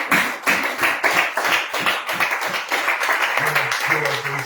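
Church congregation clapping in rhythm during a morning prayer service in Korhogo, a steady run of close, loud claps with voices singing or calling out over it.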